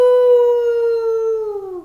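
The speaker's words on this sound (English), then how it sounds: "From far behind him, he heard Lucy's anguished howl" A dog howls in a single long, sustained, tonal wail that slowly falls in pitch at the end, clear and alone, used as a sound effect in an audiobook reading.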